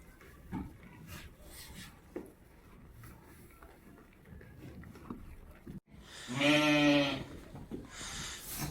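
After several seconds of quiet shuffling, a lamb lets out a single loud, quavering bleat close by.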